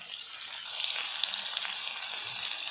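Cut tomato pieces hitting a pan of meat curry and sizzling steadily, a continuous close, bright hiss with faint stirring ticks, no voices.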